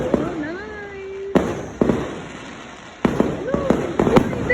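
Fireworks go off in sharp, loud bursts, several cracks and pops spaced unevenly, with whistling streaks and a child's and adults' voices talking over and between the blasts.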